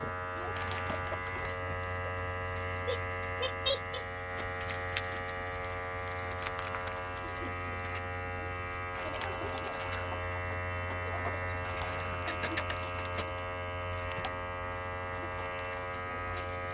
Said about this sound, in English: we're going to try to see if this will vacuum seal for us.